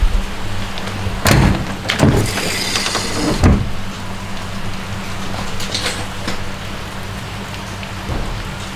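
Rain falls steadily in a continuous hiss, with a few louder bursts and clatters early on before settling into an even wash.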